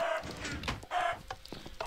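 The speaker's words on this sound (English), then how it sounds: "Oh, chicken." A Minecraft chicken gives a few short clucks, clear and close, spaced out over a couple of seconds with no talk over them.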